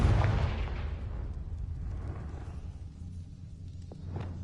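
A Confringo fire spell explodes in Hogwarts Legacy, a loud booming blast that rolls out into a long rumbling decay.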